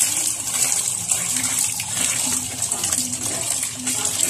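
Water pours and gushes steadily as shirataki noodles are drained, a loud continuous splashing stream heard close up with no talk over it.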